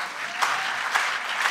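A concert audience at an orchestra performance claps in even, sustained applause, a dense patter from a crowd in a hall with a few rhythmic swells, and no voice over it.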